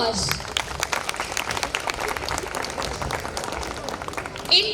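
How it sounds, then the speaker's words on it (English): Applause from an audience at an Independence Day school cultural program after young students sing, a steady wash of clapping throughout with crowd noise and some voices mixed in. "big round of applause."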